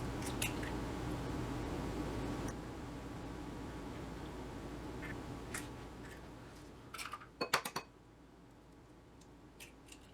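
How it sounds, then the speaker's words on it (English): Eggs being separated into a big bowl, with faint clicks and light taps of shell against the rim, mostly quiet, then a brief cluster of sharp knocks near the end. "In a big bowl, I'm going to separate these eggs first."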